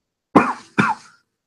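Two short, sharp coughs from a person come in quick succession, close and dry, then silence.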